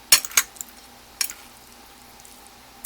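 Spaghetti squash being stirred with melted butter in a bowl, a few sharp clinks of a utensil against the dish with soft wet squishing between them, close and quiet.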